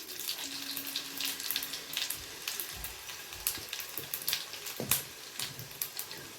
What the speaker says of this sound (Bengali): শুকনো লঙ্কাটাকে একটু ভেজে নেব।